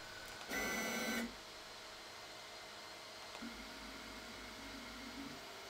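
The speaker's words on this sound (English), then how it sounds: "Move tool 1 over the microscope via the macro." An E3D toolchanger 3D printer makes a brief, sharp motor whine for under a second as it moves a tool into position, followed by quieter faint stepper hums against a low room background.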